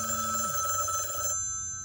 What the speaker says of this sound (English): And that is my phone ringing.